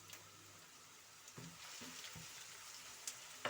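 Onions fry in plenty of oil in a pan, with a soft, steady sizzle broken by a few light knocks and scrapes of stirring, faint and close.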